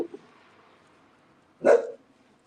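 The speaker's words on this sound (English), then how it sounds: "Might be a neighbor dog." A neighbor's dog gives a single short bark from some distance, a brief burst amid an otherwise quiet room, preceded by a faint soft sound.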